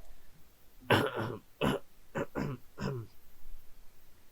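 A run of five harsh, raspy coughs and throat-clearing bursts sounds in quick succession, fairly close, over a low background hiss.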